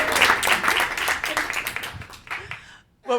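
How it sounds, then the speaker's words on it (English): Applause from the audience at a science talk, a steady wash of clapping that fades out over about three seconds, after which a voice starts speaking. "he deserves a big round of applause"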